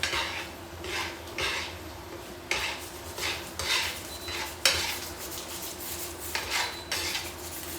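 Honey-glazed belly pork being stirred with coriander in a pan, with a steady run of utensil scrapes and clinks against the metal over a soft sizzle, close and moderately loud.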